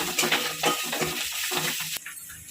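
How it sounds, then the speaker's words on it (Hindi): Onions, garlic and chilli are stirred in a hot frying pan for a mushroom besara, giving a continuous sizzle with rhythmic scraping strokes of a spoon against the pan and a sharp clink near the end. "ये सब को भल भाव बर्तमान मिक्स करदे।"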